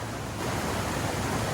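A steady wash of moving river water from the Hiwassee in Southeast Tennessee, a brief, close, broadband rush with no voices over it.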